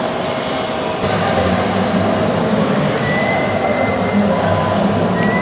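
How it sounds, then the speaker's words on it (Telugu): Train at Chennai MGR railway station, a steady loud rumble of rolling stock with faint wheel squeal and rail noise, continuous throughout with no voices. "ఇది మన చెన్నై రైల్వే స్టేషన్ అన్నమాట."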